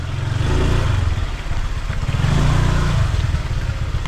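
A motorcycle ridden at close range through a cemetery in Quezon Province, its engine droning loudly and steadily with slight rises in revs throughout, and no talking.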